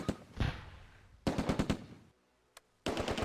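Tanks open fire on a reserve squad in the World War II strategy game Close Combat: A Bridge Too Far: loud, rapid machine-gun bursts come in several clusters, with one sharp isolated shot between them and no voices.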